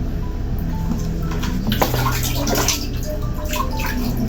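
Old, dirty shoes being washed by hand in water, with steady sloshing and splashing close by and a few brief sharper splashes, no talk.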